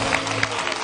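Studio audience on a Turkish television talk show clapping in a brief, steady burst of applause.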